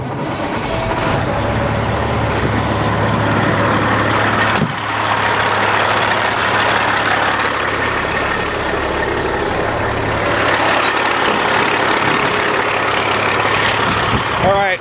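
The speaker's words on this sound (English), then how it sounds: "This is a 2007 Peterbilt 379." A 2007 Peterbilt 379 truck engine idling with a steady low rumble throughout, fairly close and continuous, with a brief knock partway through.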